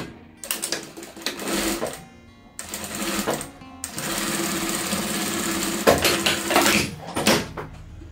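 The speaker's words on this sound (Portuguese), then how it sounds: "E a gente vai fazer um pezinho de máquina, tá? Com retrocesso no começo e no final." A sewing machine stitching a patchwork rug of fabric scraps with backstitching runs in several short bursts separated by pauses, its rapid close-up chatter starting, stopping and reversing at the ends of the seam.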